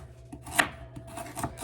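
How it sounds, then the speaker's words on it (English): A knife slicing unpeeled carrots into rounds on a cutting board at a camp kitchen, a few crisp close chops with one sharp cut standing out, faint rubbing between strokes. "I'm just going to slice these into rounds"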